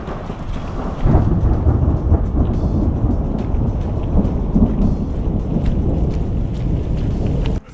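Thunder rolls loud and continuous over steady heavy rain on a mountain trail at the Cirque of the Towers in Wyoming's Wind River Range, a deep rumble filling the whole stretch with no voices.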